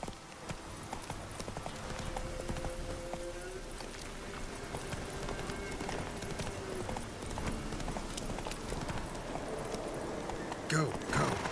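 Roach, the horse in The Witcher 3, clip-clops along at a steady gait, hooves fairly faint beneath ambient game sound and a brief snort near the end.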